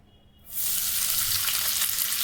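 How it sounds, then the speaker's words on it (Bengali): Onions dropped into hot oil in a pan erupt into a sudden loud sizzle after a quiet moment, then keep up a steady, bright, close hiss. "এবার এই তেলের মধ্যে পেঁয়াজটা দিয়ে দেবো"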